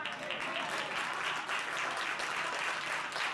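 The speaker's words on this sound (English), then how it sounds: "Okay, everybody clap." A crowd applauds steadily, a dense wash of many hands clapping at an even volume for a few seconds.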